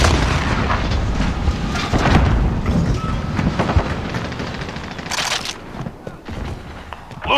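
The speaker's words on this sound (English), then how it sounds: "Grenade out!" A grenade blast in Call of Duty Warzone, a heavy boom set within continuous game battle noise with gunfire and rumble throughout, close and loud, with a sharp burst standing out near the end.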